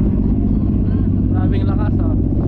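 A motorcycle fitted with a Pating pipe muffler rumbles loudly and continuously at close range, a deep exhaust growl with brief throttle blips, while people talk over it.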